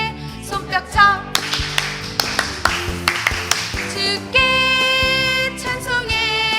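Congregation clapping in time during a lively Korean church praise song, crisp rhythmic hand claps over bright keyboard and band music, close and steady throughout.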